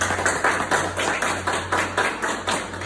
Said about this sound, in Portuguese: Vamos dar aí uma linda salva de palmas para a Márcia.